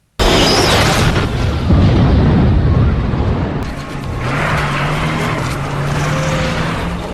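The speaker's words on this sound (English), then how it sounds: "CJ throws another propane tank and shoots it, clearing a path with an explosion" A propane tank is shot and explodes during a zombie-horde fight, giving a loud, sustained blast and rumble that rolls on with roaring debris noise and a low engine-like drone for several seconds, with no voices.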